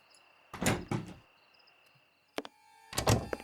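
A door opens in the Sherlock Holmes vs Jack the Ripper video game: two thuddy bursts of a handle and swing, a sharp click, then another heavy thump, close and clear with no talk.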